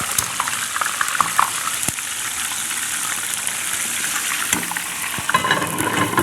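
Chicken fries in hot oil in a well-seasoned cast iron pan, giving a steady, dense sizzle that runs without pause, close and fairly loud, with occasional crackles and pops.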